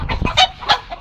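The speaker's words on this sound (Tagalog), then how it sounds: "Pakain kami ng manok guys." A few quick, close clucks from chickens in rapid succession, loud and distinct with no talking.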